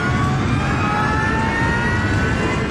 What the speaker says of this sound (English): The DC-10 with 67 people aboard roars toward the runway